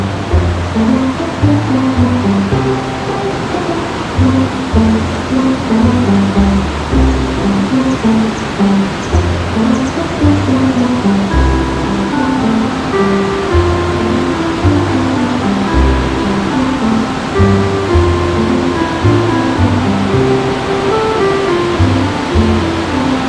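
Strong current of a stream rushing steadily in a creek where tilapia are fished, a loud, constant broadband wash of flowing water with no pauses, close to the listener and alone throughout.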